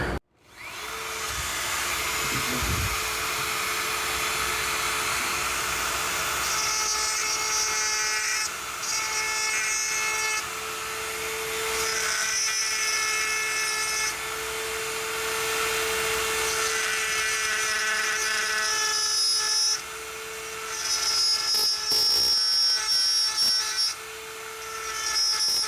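A Dremel rotary tool with a carbide cutter bit spins at about 25,000 RPM, cutting into hardwood in a loud, sustained high-pitched whine with brief dips as the bit bites and eases off.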